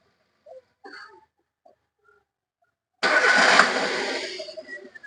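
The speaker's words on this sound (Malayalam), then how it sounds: "ഇപ്പോൾ നമ്മൾ വണ്ടി സ്റ്റാർട്ട് ചെയ്തിട്ടുണ്ട്." A Chevrolet Beat with an engine misfire fault cranks and fires up after a few quiet clicks, then settles into a loud, steady idle close by, with no voices.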